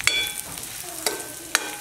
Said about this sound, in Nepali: किनिमाको तरकारी फ्राई हुँदैछ